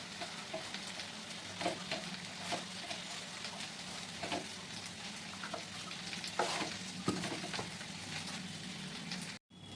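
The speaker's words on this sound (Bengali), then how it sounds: "কুদরি ভাজাটা এখনও হচ্ছে, ওটাকে একটু চাপা দিয়ে করছি।" Ivy gourd frying in a covered pan gives a steady, close sizzle throughout, with occasional brief clatters of stirring and no talking.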